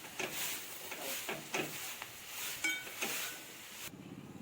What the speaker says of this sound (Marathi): आता मी त्याला थोडेसे हलवून घेते।